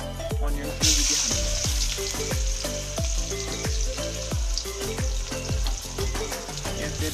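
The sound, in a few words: sliced onions frying in hot oil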